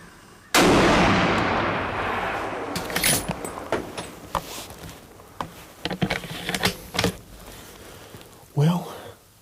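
A single loud rifle shot at a deer buck during a hunt in Alabama cracks close by near the start and decays slowly, followed by quiet rustling and handling noises and a brief voice at the end.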